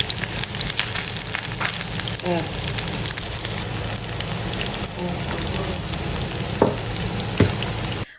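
Onion rings and eggplant slices fry in hot oil with a dense, steady sizzle, loud and close, broken now and then by small crackles and stirring clinks.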